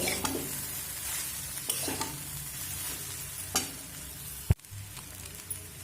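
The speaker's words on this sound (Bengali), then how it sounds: "তো আবারও আমি দু মিনিট মতো ভেজে নেবো" Chowmein fries in a pan with soy sauce and vinegar, hissing steadily. Repeated scrapes and clacks from stirring cut through the sizzle, and one sharp knock sounds near the end, with no voices.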